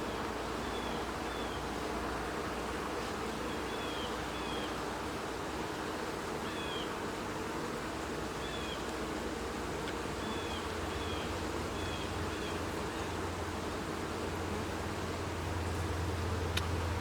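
Honeybees on a brood frame full of newly emerging workers, a steady low hum from a hive, with faint rustling as the frame is held open.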